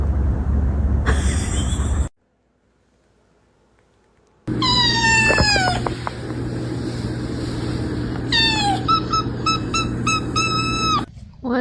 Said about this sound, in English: That's one happy little kitty.